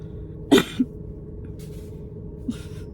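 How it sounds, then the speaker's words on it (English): A single sharp cough, followed by a smaller catch of breath and a faint second huff a couple of seconds later, close by in a quiet room. "That was such a weird cough."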